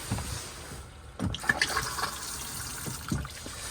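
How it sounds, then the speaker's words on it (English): Water flushes into the bowl of a cassette toilet in a Burstner Lyseo Harmony 700 motorhome, fed from the freshwater tank, in several short gushing bursts with splashing and trickling between them, close and fairly quiet. "flush a little bit and put a little bit of water in the toilet before you even think about using the toilet"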